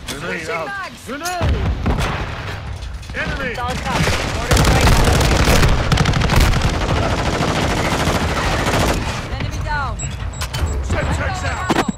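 Rapid gunfire and heavy bursts in Call of Duty: Modern Warfare II, a dense, loud and continuous barrage with booming impacts, under brief radio-style voice callouts.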